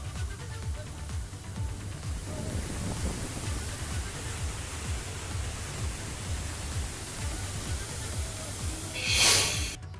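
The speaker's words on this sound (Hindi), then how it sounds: "काली नदी कितने उफान पर है, कितनी रफ्तार से बह रही है" The flooded Kali river at Dharchula rushes at high speed, a constant broad roar of turbulent water with wind buffeting the microphone, plus a brief louder hiss near the end.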